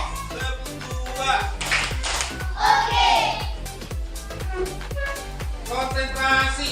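Children in a classroom beat out a rhythmic clapping pattern, a regular series of sharp hand claps with young voices chanting and shouting over them.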